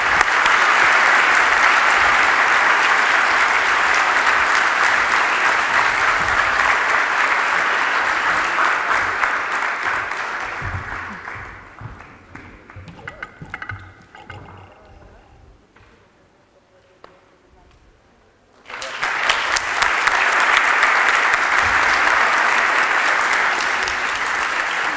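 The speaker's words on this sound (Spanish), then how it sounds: "Un aplauso, por favor." An indoor audience at a cultural event gives loud, sustained applause that fades out for several seconds, then a fresh full burst of clapping returns abruptly.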